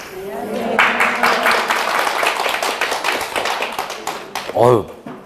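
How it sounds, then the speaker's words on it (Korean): In a real estate broker licensing lecture, the class gives a short round of brisk clapping from many hands. It fades into a few scattered claps, and a voice is briefly heard near the end. "박수 소리는 꽤, 크게 나네요."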